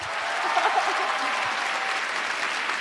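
Sustained audience applause fills a television music show featuring a Tibetan plateau singer, steady dense clapping from a large crowd with a brief voice rising faintly above it.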